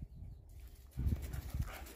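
A dog outdoors, giving low, soft barks or huffs with a brief burst of panting or movement noise, fairly faint and near, with no speech.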